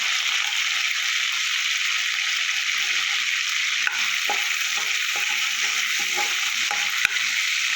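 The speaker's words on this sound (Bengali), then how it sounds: "ফোড়নটা আমার ভাজা হয়ে গেল" Whole garam masala spices fry in hot oil for a Bengali cauliflower and prawn curry, a steady close hiss of sizzling throughout, with a few faint taps and scrapes of stirring toward the end and no talking.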